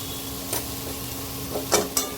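Boiled kabuli chickpeas go into a hot pan of fragrant spices, bringing a steady low sizzle broken by a few sharp scraping stirs of a spoon against the pan.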